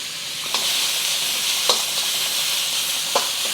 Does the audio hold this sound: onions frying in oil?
yes